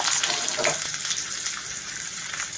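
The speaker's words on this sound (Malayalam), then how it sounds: "അപ്പം ചുവന്നുള്ളി മൂപ്പിക്കാൻ വേണ്ടിയിട്ട് വെച്ച് കൊടുക്കാനായിട്ട്" Shallots fry in hot oil for a tempering, giving a continuous bright hiss and sizzle that is loudest at the start and then settles to a steady crackle, with no voices.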